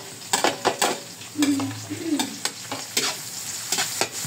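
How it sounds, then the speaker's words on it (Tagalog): Ginger and garlic sauté in a hot pan for dinuguan, sizzling steadily up close while a utensil stirs and scrapes with repeated clacks, and no one speaks. "medyo gisado na yung ating luya. Pwede na natin lagay ngayon yung may bawang to"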